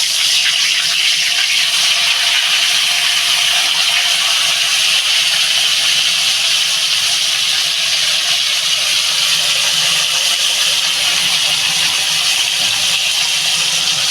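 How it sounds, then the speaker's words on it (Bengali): Hilsa fish frying in hot oil give a loud, constant sizzling hiss that holds steady throughout without a break. "আমার তেলটা গরম হয়ে গেছে আমি এই মাছগুলো ভেজে নেব"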